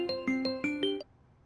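A phone rings with a short melodic electronic ringtone, five bright rising tones in quick succession before it cuts off into quiet.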